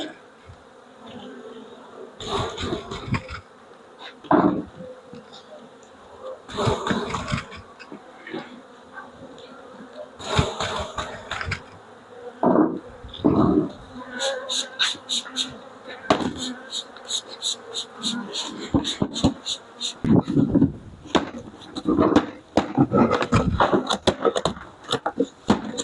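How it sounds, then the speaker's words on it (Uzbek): Honey bees drone continuously as they are moved into mini nucleus hives, the buzzing loud and close, broken by repeated sharp wooden knocks and rattles from hive handling. "Endi sekin ari solishni boshlaymiz."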